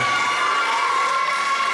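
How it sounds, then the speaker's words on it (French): Children at a holiday day centre cheering and clapping loudly together in a hall, a dense continuous roar of young voices. "donc on pourrait s'applaudir bien fort"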